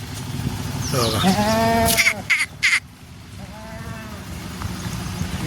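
Beetal goats bleat loudly and close by in a rural setting with livestock about, several drawn-out wavering calls, with sharp clattering knocks between them.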